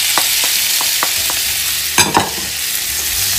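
Onions, peppers, meat and mushrooms stirred together in a sizzling pan, a steady frying hiss with a series of short spoon scrapes and a couple of louder clatters near the end, no voices.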